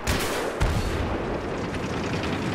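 Tank cannon fire in Battlefield 3 comes as two sharp, loud blasts in quick succession close by, each followed by rolling battlefield rumble and scattered distant gunfire.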